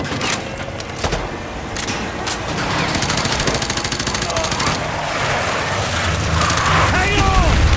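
Gunfire fills a Call of Duty MW2 Remastered battle as a gunner is targeted, with loud, dense bursts of automatic fire and explosions rumbling continuously, while voices shout over the din.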